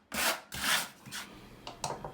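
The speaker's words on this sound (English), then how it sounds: "Just spread thin set all over this entire area under the pan." Half-inch trowel spreading thin-set mortar under a TileRedi shower pan, a series of scraping, rubbing strokes: two long sweeps followed by several shorter scrapes, close and fairly quiet.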